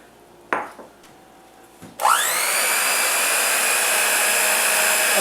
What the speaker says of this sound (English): mixer here, and I've got my dough hooks on here